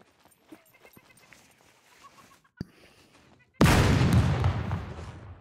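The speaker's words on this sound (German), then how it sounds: "War das? Explosion." A sudden explosion in the survival game SCUM bursts loud and close after quiet ambient sounds and a sharp single crack, then rumbles and fades over about two seconds.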